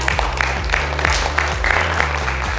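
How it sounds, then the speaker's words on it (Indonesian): An indoor audience at a corporate event claps steadily and loudly for a few seconds, a dense, even wash of many hands with no voices over it. "Boleh kami minta tepuk tangan yang paling meriah?"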